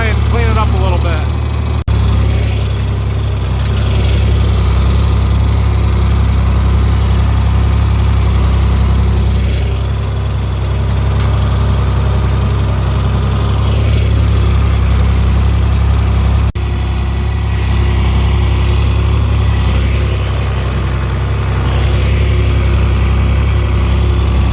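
A loud, low John Deere 4020 tractor engine rumbles continuously throughout, with a voice talking over it now and then.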